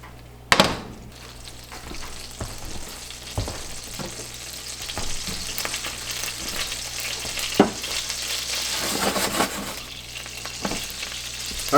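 Fat fries in a pan for a stroganoff, a steady close sizzle with occasional stirring scrapes, utensil knocks and a couple of sharper clunks.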